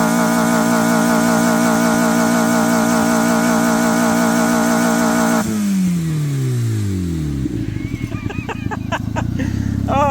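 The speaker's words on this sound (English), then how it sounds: "Let me give her another good rev here." Suzuki car engine being deliberately ruined with foreign substances added, revved hard: a loud steady high-revving drone holds for several seconds, then drops away sharply as revs fall back toward a rough idle, close to the engine.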